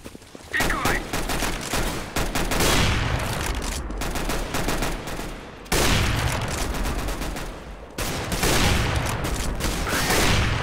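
Dense bursts of rapid gunfire from a decoy grenade in CS:GO mimic a firing weapon, loud and close, with two brief breaks before the rattling shots resume.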